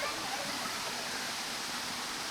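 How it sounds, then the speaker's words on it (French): A small waterfall in a Mayotte shantytown pours as a close, loud, constant rushing hiss of falling water, steady throughout with no pauses. "On arrive sur une petite cascade."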